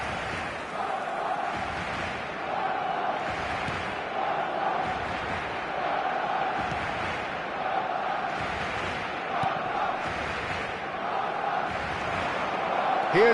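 A stadium crowd in a PES football video game roars and cheers steadily throughout, a dense sustained wall of noise with swelling surges and a faint thud near the end.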